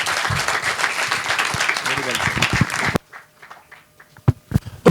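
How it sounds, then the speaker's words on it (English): Applause for a panelist at a live panel event, dense clapping from a seated audience for about three seconds, then breaking off abruptly into a quieter room with a few scattered claps and thumps. "We need to give him a round of applause."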